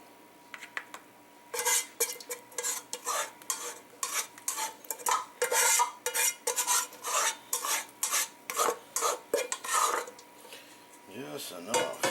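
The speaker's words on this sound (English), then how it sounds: "let's go ahead and sauce up the rest of it." Sauce being spread over lasagna with a utensil, a steady run of scraping, dabbing strokes in a quick repeated rhythm, close and fairly quiet.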